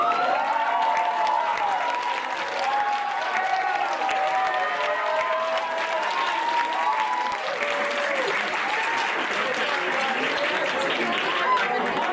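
Applause for Ahmed at a student talent night, a loud continuous wash of clapping from a crowd filling the room, with voices and whoops mixed into it throughout.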